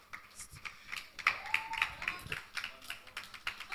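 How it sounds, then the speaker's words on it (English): A crowd claps at a book launch event to welcome the speaker giving the welcome address. The scattered, uneven clapping is moderately loud, with cheers or whistles and chatter mixed in. "Please, let's give him a round of applause."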